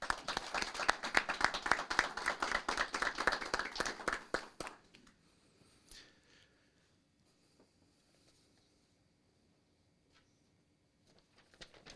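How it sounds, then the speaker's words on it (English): Audience at a city council meeting claps for a family as they walk up to the microphone, a dense round of applause for about five seconds that stops abruptly, followed by quiet room noise and a few faint sounds. "if we could give them a big round of applause as they come up"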